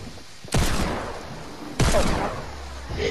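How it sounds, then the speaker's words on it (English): Two sharp gunshot bursts ring out in a Fortnite match, about a second apart, each with a short ragged tail, over a low game background. "Why is the detective shooting at me?"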